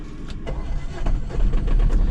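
An Aixam City Eclipse microcar with an electronically injected Kubota engine starts up, the starter cranking briefly with clicks before the small diesel-type engine catches and settles into a loud, throbbing idle close by.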